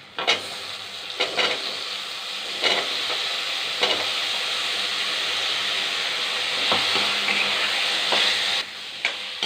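Potato pieces sauté in a pan with onion and tomato for a green mochai poriyal, a loud continuous sizzle broken by several spatula scrapes and stirs, no voices present.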